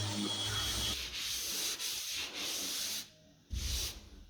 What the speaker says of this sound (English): I lightly sanded with a 6-inch random orbit and 120 grit all 4 of these hull seams